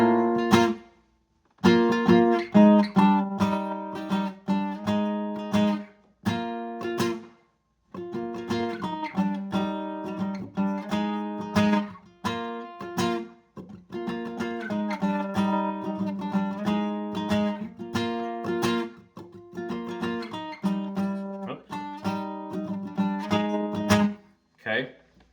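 Acoustic guitar chords for a song, strummed in a rhythmic pattern with sharp percussive attacks, close and clear, with brief pauses between phrases.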